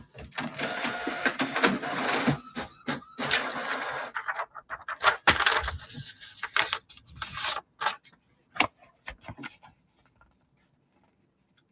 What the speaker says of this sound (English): Printing now.